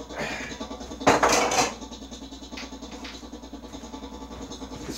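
A metal pan handled on a kitchen surface, with a loud clattering knock as it is set down, followed by lighter rattles and clinks close by.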